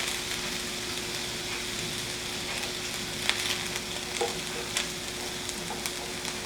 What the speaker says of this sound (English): I'm just going to saute these up until everything becomes tender.